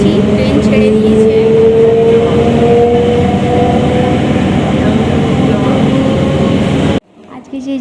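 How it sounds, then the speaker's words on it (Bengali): Moving passenger train rumbling loudly from inside a carriage, a steady roar and rattle of wheels on track with a faint whine, cutting off abruptly near the end. "ট্রেনে উঠে গেছি, ট্রেন ছেড়ে দিয়েছে।"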